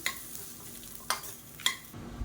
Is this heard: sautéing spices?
yes